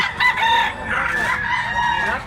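Rooster crowing, a big white-legged Spangle White gamefowl bullstag at a sale in Tabunok, Cebu, with a loud, drawn-out crow filling the clip and another fowl faintly heard.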